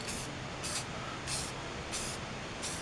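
Spray painting aluminum wheels, five short, evenly spaced hissing bursts of spray, fairly faint against a low background.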